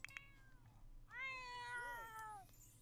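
A cat meows in The Sims 4, a quiet in-game sound: a short chirp, then a long, drawn-out meow with a wavering pitch, heard alone and fairly faint.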